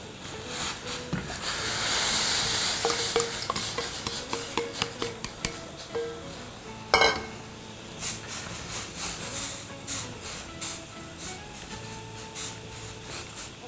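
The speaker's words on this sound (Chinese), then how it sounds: "水烧开之后，我们下入绿豆" Soaked mung beans are tipped into a pot of boiling water. A bubbling hiss swells early on, followed by scattered clinks and knocks of utensils against the pot, with no talking.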